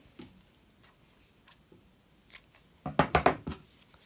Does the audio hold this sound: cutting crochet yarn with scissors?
yes